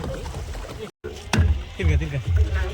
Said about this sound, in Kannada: ಪೆಡಲಿಂಗ್ ಮಾಡ್ತಾ ಬಿಡ್ತಿದ್ದೇವೆ ನೋಡಿ. ಹೋಗ್ತಾ ಉಂಟು ಗಾಡಿ.